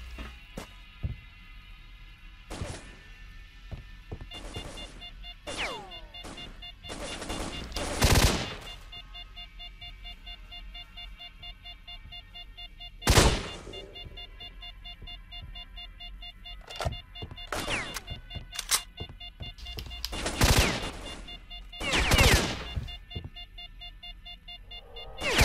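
Enemy gunfire in S.T.A.L.K.E.R. Lost Alpha: sharp, loud shots in scattered single cracks and short bursts, separated by quieter stretches with a steady tonal hum underneath.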